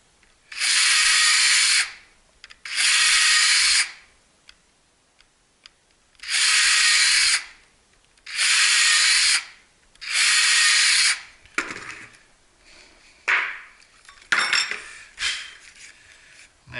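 A power drill whirs in five steady bursts, each about a second and a half long, drilling holes in Kydex for a holster, followed by softer clattering and handling noises.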